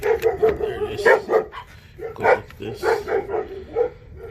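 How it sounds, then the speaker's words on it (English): Dogs bark repeatedly nearby in a rapid, uneven series of sharp woofs and yips, while someone talks briefly in a garage where a valve cover is being fitted to a 2014 Chevrolet Cruze LT. "Excuse my dogs."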